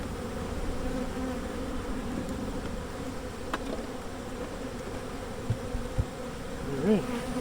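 Honeybees buzzing around drawn-out hive comb with brood, a steady close droning hum with a few louder passes near the end.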